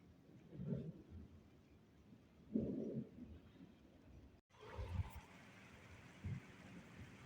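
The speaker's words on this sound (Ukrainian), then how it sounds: "Темно так стало дощик накрапає, блискає і гримить." Low, muffled thunder rumbles swell and fade several times in the distance over a garden in light rain, with a quiet outdoor background between them.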